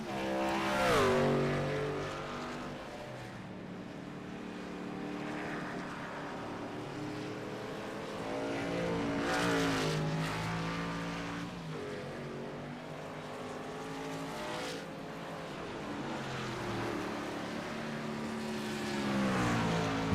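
Race trucks roar around Watkins Glen in a sim racing game, engines droning with rising and falling pitch as they pass, steady and loud throughout the 20 seconds with no talk.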